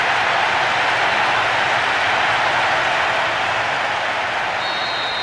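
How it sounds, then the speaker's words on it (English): Stadium crowd noise from the soccer video game PES 6 cheers a goal as a steady, dense roar that stays even and loud throughout, with no distinct voices. "The capacity crowd are enjoying the goal celebration."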